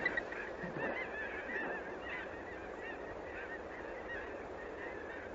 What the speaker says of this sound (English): Magnificent flocks of ducks and geese are a thrilling sight at both refuges.